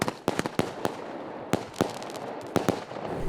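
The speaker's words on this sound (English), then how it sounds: "then the cake firework would be ready to be launched" Multi-shot cake fireworks fire off a string of sharp, loud bangs at uneven intervals, with pairs and singles spaced across a few seconds over a steady background hiss, heard alone without talking.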